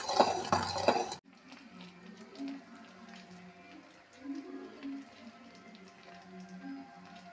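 Peanut candy mixture stirred in a pan: a quick burst of loud metallic clinks and scrapes at the start, then softer, steady scraping and bubbling close by.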